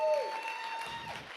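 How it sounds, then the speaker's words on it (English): Audience at a Write the Docs conference lightning talks session breaking into a brief burst of applause, clapping mixed with a voice talking over it. "Claps, claps, claps, claps. Come on."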